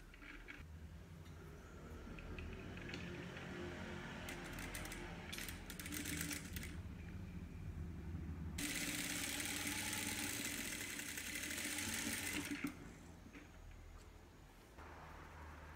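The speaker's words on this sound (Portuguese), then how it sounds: "Isso aqui a gente já vai costurar direto no acabamento da luva." A sewing machine stitches the bias binding on a kitchen oven mitt, a faint mechanical whirring hum in bursts with a louder, steadier run in the middle, no talk.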